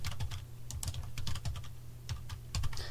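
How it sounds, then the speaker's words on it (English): Fingers tap quickly on a small, cheap keyboard of a compact modern retro computer, a close, steady run of light plasticky key clicks with brief pauses between bursts. "this little cheap keyboard actually is pretty good to type on"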